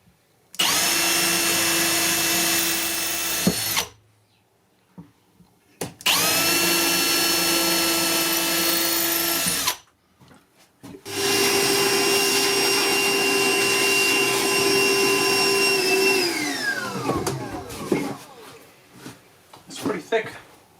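A power drill runs in three long bursts, loud and close, biting into a wooden tabletop with brief pauses between, the last run winding down slowly.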